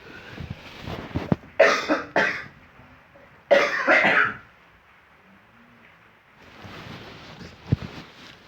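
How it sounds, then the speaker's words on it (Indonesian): A sick person coughs in two harsh bursts, each a cluster of rough hacks, close to the listener, with quiet background noise between them. "mohon maaf apabila kakak batuk karena memang posisi kakak lagi sakit"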